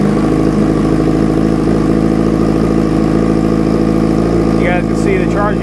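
A 2005 Yamaha R6 motorcycle engine runs at a steady, loud idle close by, with a constant low rumble throughout and a brief chirp near the end.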